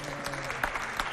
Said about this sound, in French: Applaudissez pour le coup de main.